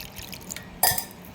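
Water poured into potato bonda batter in a kitchen: a brief, bright splash of liquid midway through, near and fairly clear against a quiet background.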